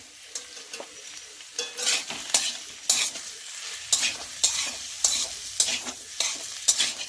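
Onion, garlic and ginger paste fries in a pan for an egg curry, with repeated scraping strokes of a spatula over a steady sizzle, close and fairly loud, no voices.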